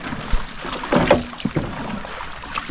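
Paddles dip and splash in water beside a small boat with a few uneven strokes, close by, over a steady high whine and faint outdoor background.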